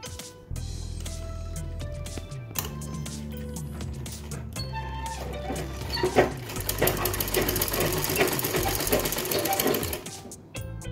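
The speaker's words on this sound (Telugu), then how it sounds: "ఫ్రంట్ పార్ట్ బ్యాక్ పార్ట్ భుజాన్ని ఈ విధంగా కుట్టుకోవాలి." A sewing machine stitches the shoulder seams of a blouse, joining front and back pieces in bursts of rapid mechanical clatter separated by short pauses, close and clear with no speech over it.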